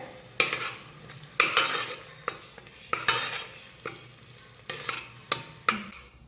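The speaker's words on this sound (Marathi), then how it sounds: "हे मसाले मिक्स करून घेऊयात" Garam masala, coriander powder and gram flour fry in a pan for matar masala, with a soft sizzle beneath a series of distinct scraping spoon strokes in an uneven rhythm, close up with no one speaking.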